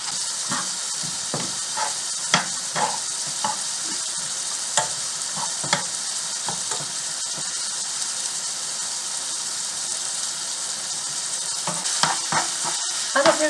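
Ground meat browns in a pan for grandma's goulash, with a constant loud sizzle and hiss and repeated scraping and tapping from a spoon as it is stirred. The sound stays close and steady, with no talking.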